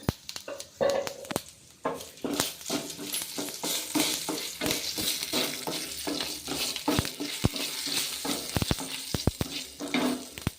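Mustard seeds, cumin and two dry red chillies crackle and sizzle in a spoonful of hot oil in a kadai, with steady frying hiss broken by sharp popping bursts and occasional spoon clinks against the pan.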